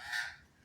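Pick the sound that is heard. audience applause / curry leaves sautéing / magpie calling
magpie calling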